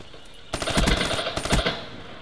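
A video game gun fires in two short bursts of rapid shots, loud and close, with a brief pause between them.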